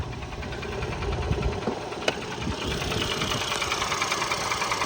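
An Opel Zafira's engine idles steadily with a low, even rumble and faint mechanical ticking, close by and unchanging throughout.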